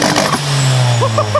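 An EG Hatch car with a stock block sits on launch control at about 4,500 rpm, the engine holding a loud, steady rev with short popping bursts near the end.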